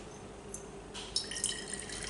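Water is poured into a glass measuring cylinder, a faint trickle that thickens into a steady splashing flow after the first second, quiet and heard alone without talk.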